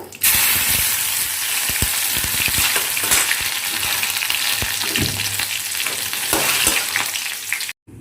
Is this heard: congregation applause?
no